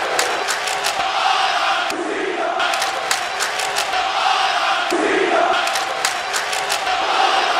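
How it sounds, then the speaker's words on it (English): Wrestling arena crowd in a WWE video game, loud sustained cheering and roaring in repeated surging waves. "Crowd going crazy."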